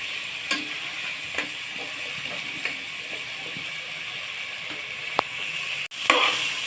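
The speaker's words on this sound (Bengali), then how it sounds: "এইভাবে আমি তিন চার মিনিট ভেজে নিব" Spice paste for a pabda fish curry fries in oil with a splash of water, giving a steady close hiss broken by occasional sharp spoon-stirring clicks and scrapes, with no voices.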